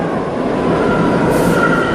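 A train rumbles past at close range, a steady loud broadband roar of rail wagons with a brief high hiss midway, running throughout with no talk.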